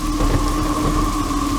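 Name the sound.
heavy rain with thunder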